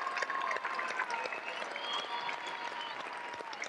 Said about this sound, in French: je voudrais encore ici, à Chaumont, qu'on les applaudisse bien fort